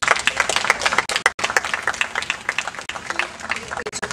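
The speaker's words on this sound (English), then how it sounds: "I want to give them a round of applause." An open mic audience in a park claps for the other performers, a dense patter of hands close by with voices mixed in and a short break partway through.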